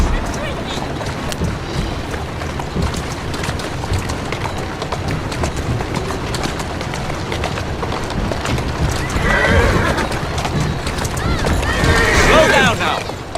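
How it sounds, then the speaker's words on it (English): A horse neighs and its hooves clip-clop in Assassin's Creed Syndicate, with steady hoofbeats throughout under street ambience and whinnies rising near the end while people talk. "Who's a good horse?"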